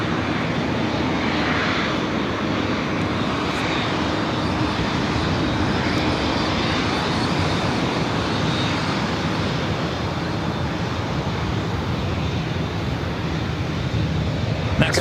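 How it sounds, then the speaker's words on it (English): At Los Angeles airport, a Delta Boeing 767-300ER pushes back for JFK amid a steady, loud jet engine drone and hiss, unbroken and evenly sustained throughout. "Delta 767 at 300ER, now pushing back."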